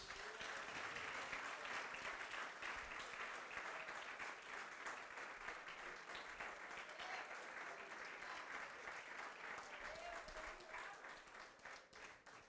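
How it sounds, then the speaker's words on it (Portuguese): A church congregation applauds in praise, a long, steady wash of many hands clapping that fills the room at an even level, softening slightly toward the end. "Vamos lá aplaudir ao Senhor e dar glória a Deus."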